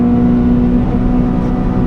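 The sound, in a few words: Honda Civic FD2 Type R driving on Nürburgring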